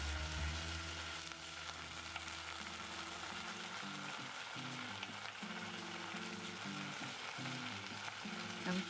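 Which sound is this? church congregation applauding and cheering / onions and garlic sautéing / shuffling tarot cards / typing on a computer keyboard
onions and garlic sautéing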